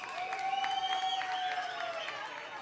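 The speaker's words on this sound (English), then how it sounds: "They love it, cheering." An audience claps and cheers steadily throughout a stage performance of a woman singing a song, with her sustained sung notes carrying over the applause.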